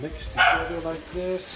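A dog barks once, loud and close, partway through a person's speech, followed by a softer whine-like tone as the talking continues.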